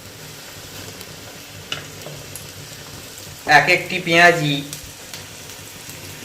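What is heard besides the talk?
onion fritters (piyaji) frying in hot oil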